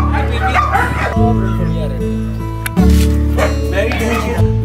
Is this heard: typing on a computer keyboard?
no